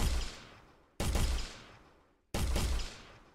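Three sharp gunshots from a first-person shooter built in Unreal Engine, each a loud crack with a long decaying tail, spaced about a second apart.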